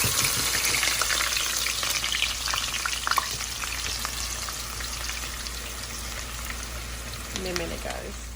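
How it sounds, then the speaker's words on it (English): Onion and garlic frying in oil in a pan for a jollof rice meal, a steady close sizzle and crackle throughout with occasional stirring clinks. "So the onion and the garlic is frying up."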